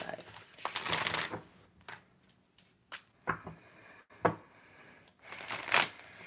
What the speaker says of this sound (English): these cards are feeling so good to shuffle in my hand.